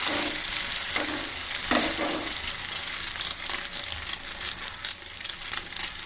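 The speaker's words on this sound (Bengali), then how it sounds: "লাল করে নিচ্ছি এটাকেও ভেজে।" Eggs fry in a pan until browned for a tomato egg bhuna, giving a steady bright sizzle with a few stirring scrapes throughout, no voices.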